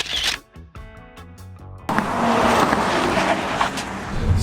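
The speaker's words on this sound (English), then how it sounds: "Oh, come on, Toyota, 8 speeds, let's go." A 2020 Toyota Camry TRD with an 8-speed automatic accelerates at full throttle during a drag race. Rising, strongly harmonic engine revs give way to a loud, sustained roar of wind and engine noise.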